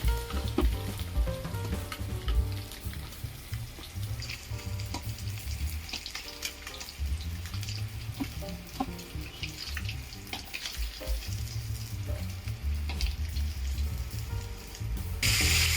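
Snakehead murrel fish pieces fry in oil, a dense, continuous crackling sizzle with low bubbling, close and steady throughout with small spits and pops, no voices.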